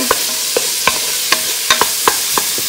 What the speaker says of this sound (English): See how the onions are getting see-through, translucency.